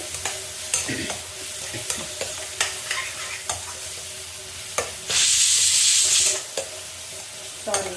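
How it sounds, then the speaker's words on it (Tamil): A spoon stirs green peas with turmeric and spices in a frying pan, giving repeated close scraping strokes over a soft sizzle, with a brief louder hiss partway through. "நல்லா மிக்ஸ் பண்ணி விட்டுட்டு"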